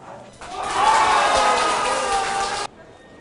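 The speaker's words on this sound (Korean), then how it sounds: "목포역 대합실에는 우레와 같은 환호가 터져 나왔습니다" A crowd erupts in loud cheering and whoops inside the Mokpo station waiting room, rising quickly to a sustained roar for about two seconds before cutting off abruptly.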